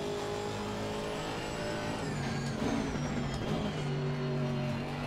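GT3 race car engine droning steadily in Assetto Corsa Competizione, a continuous mid-level motor tone that rises slightly in pitch partway through, with no speech.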